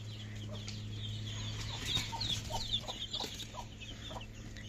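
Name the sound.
young chicks cheeping on a poultry farm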